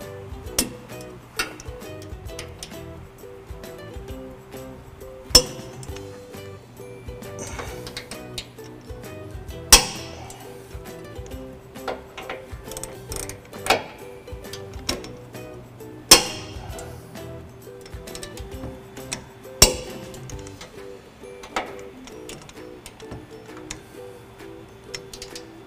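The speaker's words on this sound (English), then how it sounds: "I've got a torque wrench here that will click when we reach that value." Torque wrench clicking while tightening trailer hitch bolts on a 2015 Ford F-150, sharp metallic clicks repeating every few seconds among quieter ratcheting and handling noises, with no talking.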